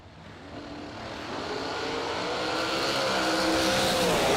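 Drag race cars at a heads-up 64-foot event launch with a rising engine roar, a broad, loud blast that builds steadily over a few seconds with no talk.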